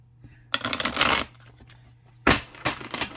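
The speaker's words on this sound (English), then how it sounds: "All Oracle cards are ridiculously hard to shuffle, but my hands are getting stronger." Kundalini Meditation Oracle cards being shuffled by hand, two close, crisp bursts of riffling and slapping card stock separated by a quiet pause, with no talking.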